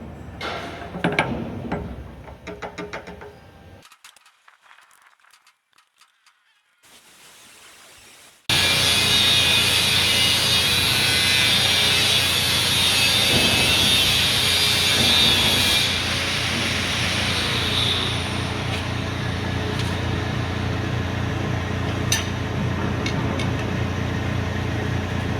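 A drill whines loudly and continuously close by after scattered clanks and a quiet gap, grinding through a 3/4-inch hole in a motor bracket for a long, steady stretch.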